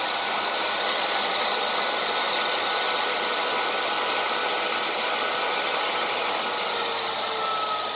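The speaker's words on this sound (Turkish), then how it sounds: "Şimdi düşürelim hızımızı." A 1.1 kW electric motor on its drive spins down from 10,000 rpm, giving a steady, loud whirring hum with a high tonal whine that holds nearly constant and eases only slightly over the stretch, with no voices.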